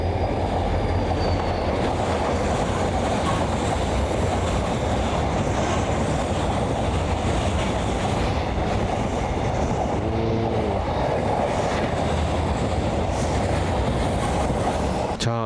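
A freight train hauled by a diesel locomotive rolls past on a double-track line, a loud continuous rumble of wheels and wagons with clicking rail joints and a faint voice briefly over it.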